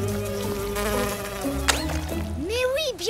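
Mosquitoes buzz in a French children's cartoon, a thin whining drone running beneath music and voice-like melodic sounds, with a sharp rising swoop midway and warbling tones near the end.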